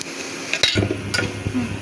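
Onions frying in a little oil in a kadai, a low sizzle broken by spoon scrapes and clinks as they are stirred, close up with no voices.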